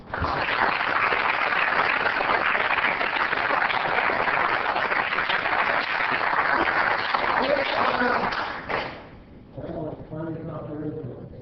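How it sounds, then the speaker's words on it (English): A round of applause at a city council meeting in Oceanside, a steady wash of clapping from the chamber audience lasting several seconds, then fading out as a voice begins speaking. "Let's help Jimmy celebrate with a round of applause."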